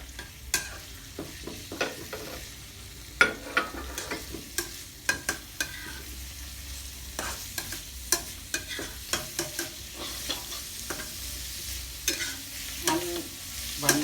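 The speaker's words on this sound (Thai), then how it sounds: "เข้าไปผัดกับกระเทียมนะครับผม" Pickled mustard greens stir-fried with garlic in a pan, a continuous soft sizzle broken by frequent sharp scraping and tapping strokes of the spatula, close and without talk.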